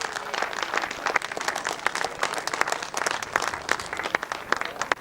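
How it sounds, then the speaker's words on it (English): A crowd at a British grasstrack championship applauds the 500cc sidecar podium finishers, with lively, uneven clapping and distinct individual claps standing out throughout, no voices above it. "Give them a big round of applause."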